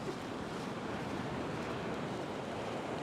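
Steady wind and breaking surf on a cold, rainy beach during surf fishing. A continuous broadband roar with microphone wind buffeting, loud and unbroken throughout.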